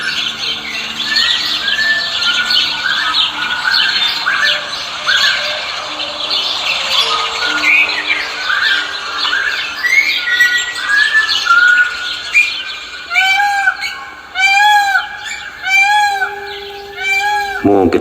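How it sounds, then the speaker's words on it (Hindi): Birds chirp from dense surrounding trees, a continuous busy chorus of tweets that ends in a run of clear, repeated whistled calls, with a soft voice heard beneath the birdsong. "आसपास के घने पेड़ों से पंखियों की मधुर कलशोर सुनाई देती है।"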